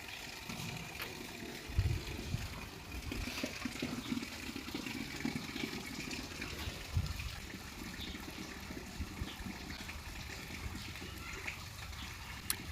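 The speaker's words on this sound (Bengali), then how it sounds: "এই দেখো আমাদের কোয়ার্টারে জল চলে এসেছে।" Water supply flowing into residential quarters at its scheduled time, a steady gushing, running stream that holds at a fairly even level throughout, with no talking.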